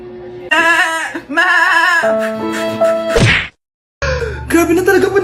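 Goat bleats in a comedic sketch: several wavering, nasal cries, loud and close, broken by a sharp whack and a short silence before more bleating.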